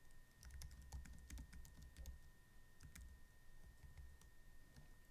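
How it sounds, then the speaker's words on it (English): Typing on a computer keyboard, with quick irregular key clicks in short bursts, close and quiet over a faint steady room hum. "So I could just, for example, type from my keyboard."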